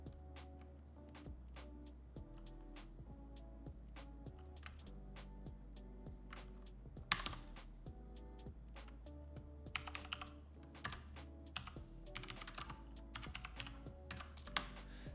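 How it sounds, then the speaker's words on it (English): Mechanical keyboard keys clack in a steady stream of close typing, with lo-fi music playing softly underneath throughout. "Mechanical keyboard typing ASMR."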